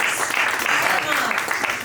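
Audience at an education panel discussion clapping in thanks for the previous panel, a steady dense wash of applause throughout, fairly loud and close.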